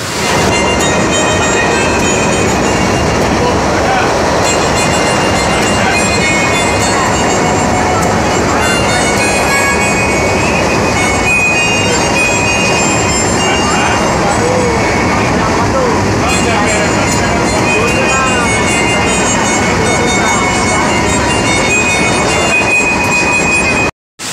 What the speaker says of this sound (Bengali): আমি ট্রেনের প্রতীক্ষা করছিলাম, কখন ট্রেন আসে। অবশেষে ট্রেন পেয়ে যাই